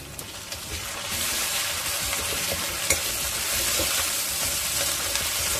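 Ginger and garlic frying in hot oil, a continuous close sizzle with occasional stirring scrapes, no voices.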